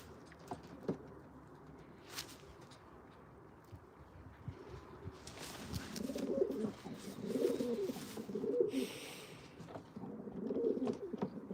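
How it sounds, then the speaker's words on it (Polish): Pigeons from a breeding loft coo softly in short repeated rolling phrases, fairly close, over a low rustling background with occasional flutters. "Przepiękny gołąbek."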